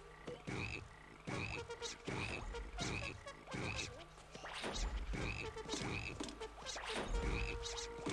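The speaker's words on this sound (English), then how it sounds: "Get the frog to go." Frogs in the video game BattleBlock Theater croaking in a steady repeating rhythm, loud and close, about a dozen sharp croaks mixed with game thuds.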